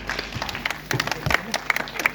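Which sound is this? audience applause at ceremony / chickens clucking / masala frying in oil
audience applause at ceremony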